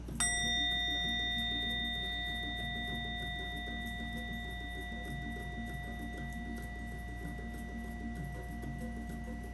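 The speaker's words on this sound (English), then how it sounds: "And by the sound of the bell" A single bell is struck once and rings out with a long, clear, sustained tone that slowly fades over a steady low hum.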